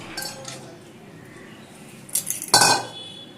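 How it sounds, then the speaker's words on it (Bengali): Washed urad dal (biulir dal) tipped into a small pressure cooker, a few soft clinks early on and then a louder rattling clatter of utensil against metal near the end, with no talk. "একটা ছোট প্রেসার কুকার নিয়ে নিয়েছি, ধুয়ে নেওয়া ডালটা দিয়ে দিলাম"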